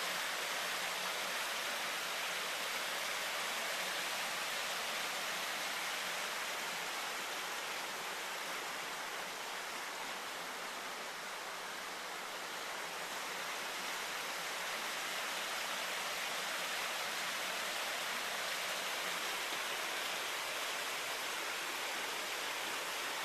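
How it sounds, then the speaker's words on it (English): Steady, broad rushing of river water in hillside mining country near Stringtown or Carmichaels in Greene County, Pennsylvania, constant and unbroken for over twenty seconds, with no voices over it. "There's the river."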